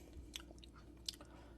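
Chewing on celery that has sat in tepid water, giving a couple of soft, close crunchy bites against a quiet background.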